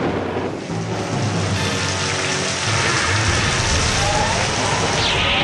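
Heavy rainstorm sound effect from the 2003 tokusatsu series Bakuryu Sentai Abaranger, a dense continuous roar of pouring rain with low rumbling underneath, loud and unbroken throughout.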